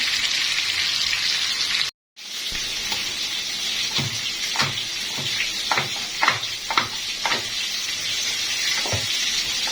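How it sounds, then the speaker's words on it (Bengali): Chicken frying in a pan on a gas stove at medium heat, giving a steady hiss of sizzle broken by a brief gap and then a run of crackling pops. "এখন এই কাজটা ভেজে নিব আর এই সময় গ্যাসের পাওয়ারটা একটু মিডিয়াম আঁচে লাগবে নাহলে পুড়ে যাবে"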